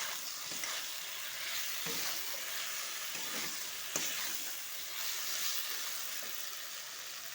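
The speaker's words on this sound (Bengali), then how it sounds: "দেখো, মশলা দিয়ে শশা কষানো হয়ে গেছে" Cucumber stir-fried with spices in a pan, a continuous close sizzle with occasional soft stirring scrapes and clinks, with no talk.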